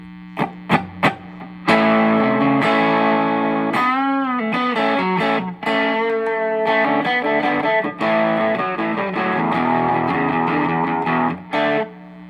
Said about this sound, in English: it's called Driven Verb, so it's probably like, it's got a verb on it, reverb, driven